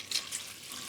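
Water poured into a pot of beans for Georgian ajapsandali, a brief soft splashing trickle.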